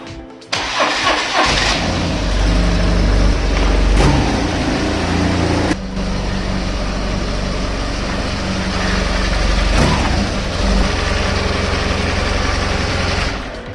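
A Suzuki motorcycle engine cranks and fires up, then runs at a loud, steady idle close by. A few sharp blips and clunks break in along the way.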